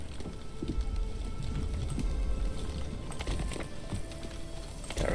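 Rain patters steadily in The Wandering Village, a dense, even wash of droplets with scattered louder taps and no voices.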